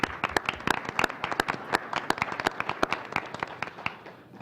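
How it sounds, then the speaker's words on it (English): An audience at a fair lending conference panel breaks into applause, dense overlapping hand clapping from a modest crowd that holds steady and then begins to fade. "So I know Mark just left, but if we could give the Federal Reserve Bank another round of applause."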